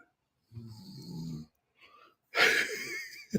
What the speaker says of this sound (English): You guys hear the snoring? It's like a light purr.